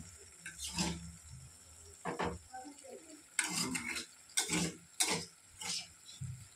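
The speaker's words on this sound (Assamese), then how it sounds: "এতিয়া মছলা ভজা হৈ গ'ল এয়া চব তেল উপঙি আহিলে ওপৰত এতিয়া কাচকলখিনি দি দিব ইয়াত" Raw banana pieces go into spices already fried in oil and get stirred in a pan, giving a string of scraping, clattering stirs and soft sizzling bursts, close and fairly loud, with quiet gaps between them.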